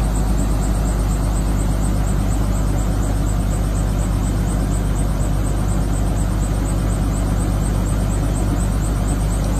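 Ford V10 engine powering an Orchard Rite wind machine runs steadily and loudly, a constant dense drone with no breaks and no talking.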